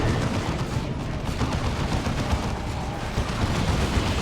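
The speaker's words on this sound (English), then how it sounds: "Rocket Launcher gets a decent rear armor hit on the Vortimer" A rocket launcher strikes a vehicle's rear armor during a Warhammer 40,000: Dawn of War 2 battle between Ordo Malleus and Orks, heard as a dense, steady din of gunfire and impacts with no pause throughout.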